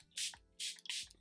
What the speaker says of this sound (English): I'm just gonna be setting everything with my Charlotte Tilbury airbrush. Airbrush Flawless setting spray